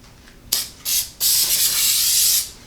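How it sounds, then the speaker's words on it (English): Krylon Easy Tack repositionable glue sprayed from an aerosol can onto kite fabric, heard as a quick hiss, a second short burst, then a longer steady spray of about a second, close and loud with no talk. "and give this a little shot of the spray."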